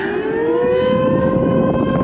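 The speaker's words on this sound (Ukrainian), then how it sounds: "ця сирена звучить в місті Анкона." Civil defense siren sounding in the port of Ancona, Italy, a loud sustained wailing tone with layered harmonics that holds steady throughout, over a low background rumble.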